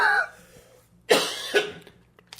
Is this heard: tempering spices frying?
no